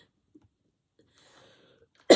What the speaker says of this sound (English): Ooh, I'm about to cough.